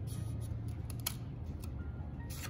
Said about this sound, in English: better scissors would probably help